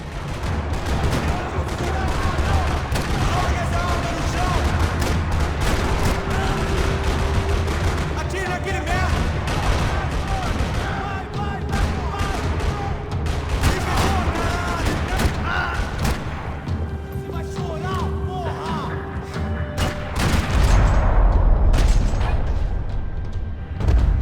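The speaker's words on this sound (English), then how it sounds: "Another parking lot rattling with gunfire." Dense bursts of rapid video game gunfire and booms in Max Payne 3 over a constant background roar, loud and sustained, with faint voices now and then.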